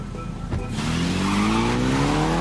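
A car in the Need for Speed Unbound video game pulls away with squealing tires, its engine revving and rising steadily in pitch, loud and close, with no talk over it.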